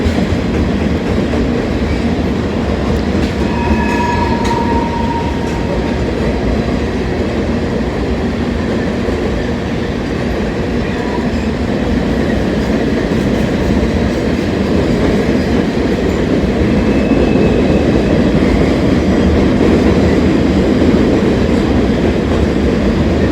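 A freight train with boxcars, including a Canadian American Railroad car, rolls past at Kenova in a steady, loud, continuous rumble with faint clatter and brief high wheel squeals, no voices.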